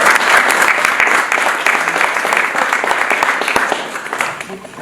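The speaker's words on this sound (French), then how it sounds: "Je vous demande d'applaudir Monsieur le sénateur Damien Régnard" Audience applause for a senator at an awards ceremony, dense sustained clapping from a crowd filling the room, loud and close, with some faint speech underneath.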